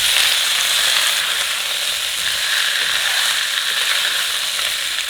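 Fresh chicken fries in hot oil with scallion, ginger, garlic and dried chili, giving a loud, steady, bright sizzle with no talk over it.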